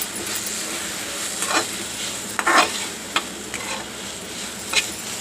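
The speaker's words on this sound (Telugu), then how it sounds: "గరిటెపెట్టి మంచిగా తిప్పాలి." Chicken in soy and tomato sauce is stirred with a ladle in a hot pan, giving a steady sizzle with scraping strokes and occasional clinks of utensil against metal.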